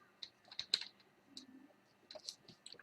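Computer keyboard typing, scattered close key clicks in small irregular bursts over a quiet background, with no speech.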